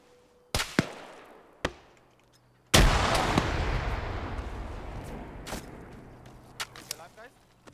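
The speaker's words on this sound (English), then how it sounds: "Naps joining in on the shooting." Gunfire in a competitive team shooter match, a few sharp isolated shots followed by a sustained burst of rapid fire that trails off into scattered single shots, with a commentator talking over it.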